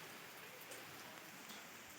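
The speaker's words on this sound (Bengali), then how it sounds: "প্রচুর পরিমাণে বৃষ্টি হচ্ছে" Heavy rain falls without a break, making a soft, dense hiss of drops on surfaces with no voices over it.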